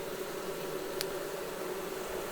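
Honey bees hum steadily around open frames during an inspection of a Long Langstroth horizontal hive. The buzz is soft and constant, with one brief sharp click partway through.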